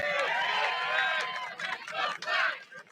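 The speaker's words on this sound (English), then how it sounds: "the crowd is chanting to fix the flag" A rally crowd at a Trump event in Las Vegas chants in unison, a dense mass of many voices rising and falling in a steady rhythm, fairly loud and continuous throughout.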